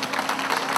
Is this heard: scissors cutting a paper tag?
no